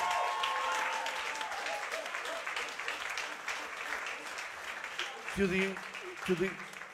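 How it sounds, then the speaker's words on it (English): A poetry slam final audience claps and applauds steadily for several seconds, then a voice comes in near the end as the clapping fades. "Let's give a round of applause to every single artist that's been involved with us this year."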